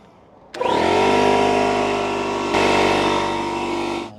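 A cordless power drill, used while preparing an RV for a travel day, whirs steadily and loudly at close range, starting abruptly and running for several seconds with a brief surge in pitch midway.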